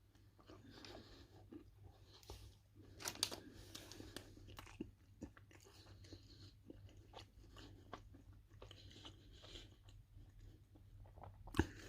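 Someone chews an apricot cereal bar from a ration pack, with soft crunching and bites coming close and quiet in an irregular run, and no talking.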